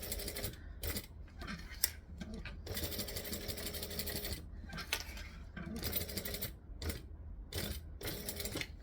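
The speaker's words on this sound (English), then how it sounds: "I'm actually going to do a second line of stitching and go all the way around the edge." Sewing machine stitching a second line around the edge of a Yoshi backpack, close and steady rapid mechanical chatter in bursts, stopping and restarting with short pauses between runs.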